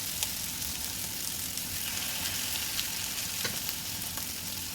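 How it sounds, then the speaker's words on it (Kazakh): Cheese-stuffed liver cutlets fry in hot oil in a heated pan, giving a dense, continuous close-up sizzle with occasional faint crackles and no talking. "қызып тұрған табағымызға котлеттерімізді салып шығатын боламыз"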